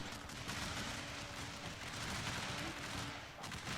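Cannon fire in a video game battle: a dense, continuous roar of booming shots and gunfire that runs steadily without clear separate blasts.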